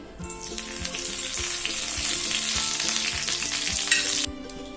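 Curry leaves hit hot oil on a dosa griddle for a plantain fry, bursting into a loud, steady sizzle with crackling that runs for about four seconds before cutting off abruptly.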